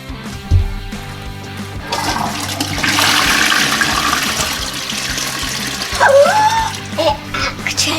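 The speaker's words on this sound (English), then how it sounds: "It actually flushed." A toilet flushes with a loud rushing gush of water that swells and keeps draining, accompanied by gurgles and a brief higher squeak near the end, with no talking.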